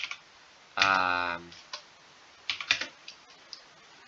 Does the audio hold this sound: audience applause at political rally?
no